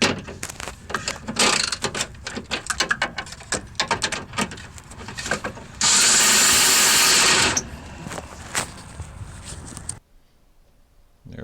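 A power tool runs in loud whirring and ratcheting bursts, then one sustained high-pitched run, while tightening the rear strut assembly bolts on a vehicle, and stops abruptly near the end.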